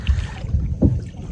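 Fishing boat motor running at full throttle on a crab-netting trip, a steady low rumble with gusty wind buffeting the microphone and a brief louder surge partway through.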